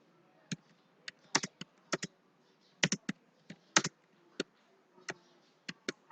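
Keys tapped on a computer keyboard while text goes into Notepad, sounding as sparse, irregular clicks that sometimes come in quick pairs or clusters, close and clear against a quiet background with no talking.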